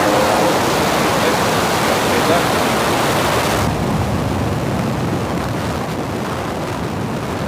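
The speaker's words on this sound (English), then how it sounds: "Ignition. And liftoff Falcon 9." SpaceX Falcon 9 rocket launch roar at liftoff: a loud, continuous broadband rumble and hiss that fills everything, its bright upper edge dropping off midway while the heavy roar carries on, with a voice faintly beneath.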